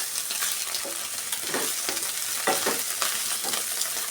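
Beaten eggs fry in a pan for egg fried rice, a steady loud sizzle broken by repeated spatula stirs and scrapes against the pan, close up with no voices.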